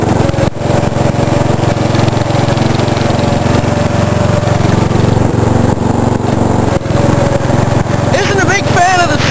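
A racing lawn mower engine drones loudly and steadily while the machine is ridden, a close, continuous running note with no pauses.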